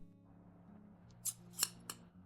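Long 10-inch fabric scissors cut through cloth in a sewing workroom: three crisp, close snips spaced about a third of a second apart over a faint, quiet background.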